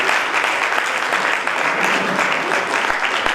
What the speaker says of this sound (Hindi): एक बार तालियां बजाकर हम वेलकम और स्वागत करें।